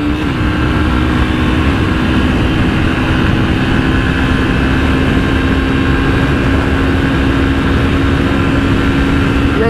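A 2018 Yamaha Fazer 250 motorcycle held at its top speed, producing a loud, steady engine drone with a constant tone, buried in heavy wind roar the whole way through.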